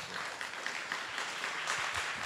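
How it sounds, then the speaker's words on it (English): An indoor audience at a design lecture claps for the speaker, dense, even applause filling the room at moderate level without a break. "Let us give Peter a round of applause."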